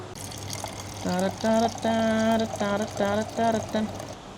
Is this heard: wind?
no